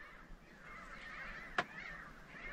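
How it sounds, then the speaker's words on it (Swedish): Faint honking bird calls drift in over a steady outdoor hiss, with one sharp close knock partway through. "lyssnar på fåglarna"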